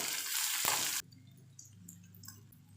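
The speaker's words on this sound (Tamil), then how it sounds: "கருவேப்பிலை சேர்த்துட்டு நல்லா வதக்கிக்கலாம் வெங்காயம் நல்லா வதங்கட்டும்" Onions, curry leaves, garlic, ginger and coconut sautéing in a pan for Chettinad fish curry: a loud, close hiss of frying for about a second, then it cuts off into quiet, faint kitchen sounds.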